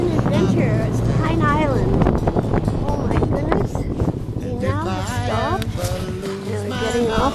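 A snowmobile riding at night toward a fort, its engine droning steadily up close beneath heavy wind buffeting on the microphone.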